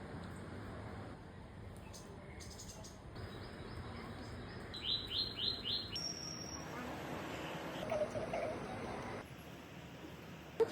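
Parrots visiting a home and eating ivy gourd fruits give short, faint chirps and tweets in bursts against a steady background of traffic and road noise.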